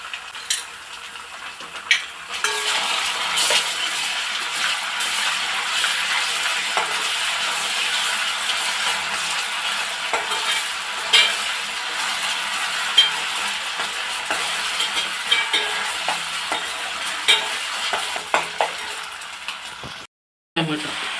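Ginger garlic paste sizzles steadily in a pan over a medium flame for an egg keema curry, with a dense, continuous frying hiss and occasional light scrapes of stirring throughout.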